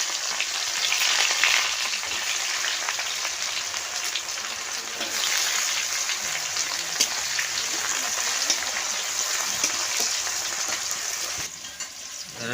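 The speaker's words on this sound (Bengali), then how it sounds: "এখন দেব কাঁচা জিরা, তারপর দেব পেঁয়াজ কুচি" Cumin seeds and chopped onion frying in oil, a loud steady crackling sizzle close up, with a few stirring scrapes and a brief drop in intensity near the end.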